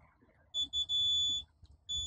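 A MOB+ X hub beeps during fob pairing: a few sharp, high electronic beeps, two short ones then a longer tone, with a final beep, close and clear over a quiet background.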